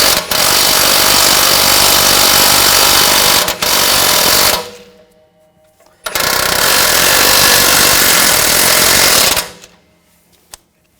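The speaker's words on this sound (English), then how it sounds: "Now we're going to tighten this nut and bolt." An impact wrench rattles hard in two long loud bursts, tightening a nut and bolt on a 2007-2013 BMW X5 rear wheel bearing, with a short quiet gap and a few clicks between them.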